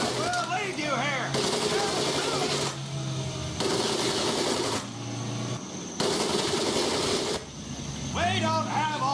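Rapid automatic gunfire in the Medal of Honor: Pacific Assault video game, fired over a muddy training pit. The bursts stop and start in long blocks, with a drill instructor's voice barking over the shooting.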